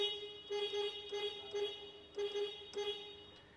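Air horn on a Tata Signa 1923 truck with a Cummins engine, sounding as a steady sustained tone with several short louder blasts pulsing over it, close and moderately loud.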